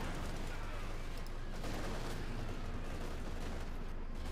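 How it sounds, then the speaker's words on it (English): A British 6-pounder anti-tank gun bombarding in Company of Heroes 2 amid a battle, with steady, dense gunfire and explosions forming a loud, continuous barrage with no clear gaps. "6-pounder gun still bombarding."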